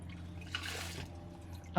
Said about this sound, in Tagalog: Parang naririnig ko nakabukas yung gripo.